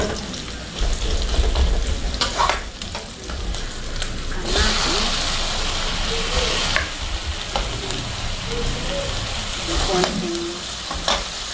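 Chopped onion frying with garlic in a pan, a steady sizzle with frequent stirring scrapes and clatter, plus a brief splash of running water partway through.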